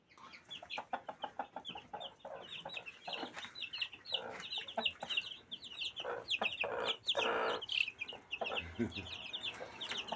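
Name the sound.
chickens and chicks clucking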